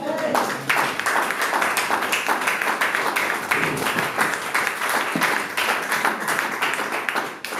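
A church congregation applauds the Lord during a service, a dense, sustained round of many hands clapping with voices mixed in underneath.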